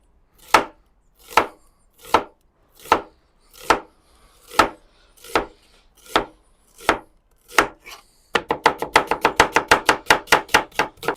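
A knife chops onions thinly on a board. About a dozen evenly spaced crisp cuts come first, then a sudden fast burst of rapid slicing. The strokes are close and loud with no talking.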